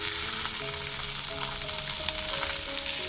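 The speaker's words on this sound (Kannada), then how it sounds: "ಇದೆಲ್ಲನೂ ಇವಾಗ ಮೀಡಿಯಂ ಫ್ಲೇಮಲ್ಲಿ ಹುರ್ಕೊಂಡು ಬರೋಣ" Chopped garlic, chilli, tomato and onion frying in a pan over medium flame, a steady close sizzle throughout with faint stirring, no voices.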